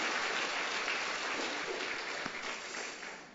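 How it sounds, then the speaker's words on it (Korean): A church congregation applauds during a Sunday morning worship service, a broad, even wash of clapping from a large crowd that holds steady before slowly tapering off. "우리 하나님께 박수로 감사하겠습니다"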